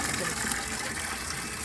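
Sandy water gushing from a pipe into a water tank, a continuous hissing, splashing rush heard close and fairly loud throughout, with no talk over it.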